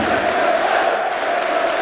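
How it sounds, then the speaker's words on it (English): A wrestling crowd in a Manchester arena gives a sustained ovation, a dense, steady roar of cheering voices with no breaks, loud and filling the space. "Listen to this ovation."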